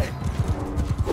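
Horse hooves in Mount and Blade 2 Bannerlord, a quick rhythmic clip-clop of galloping footfalls, close and steady, with faint game noise behind.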